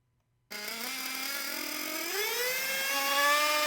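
A small high-pitched nitro model engine running rich starts abruptly and revs up, its whining tone rising steadily as it gets louder.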